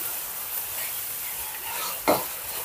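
Tomato sautéing in a hot pan with garlic and onion, a soft steady sizzle with a brief stirring scrape near the end, fairly quiet.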